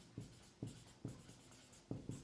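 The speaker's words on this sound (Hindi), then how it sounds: "तो यहाँ पे हम लिखेंगे" Chalk or pen writing on a board during a chemistry lesson, heard as five short scratchy strokes in an uneven rhythm, close and fairly quiet with no talking.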